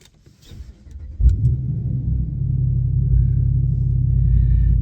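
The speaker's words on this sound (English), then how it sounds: "thought I'd take you for an in-cab of the Power Wagon with the new exhaust" Inside the cab of a Dodge Power Wagon truck with a new exhaust, the engine cranks and fires after some quiet rustling, then settles into a deep, steady, rumbling idle.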